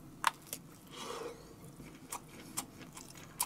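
Chewing on Jjawang instant black-bean noodles topped with a fried egg, a close, wet mastication with a few sharper crunchy bites spread across the few seconds, no voices.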